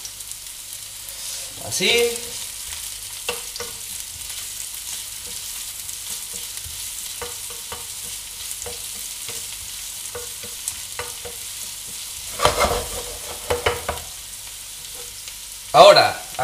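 Chopped onion with a pinch of salt sizzles steadily in a frying pan, broken by a few clattering stirs near the start and again toward the end, with a brief spoken word in between.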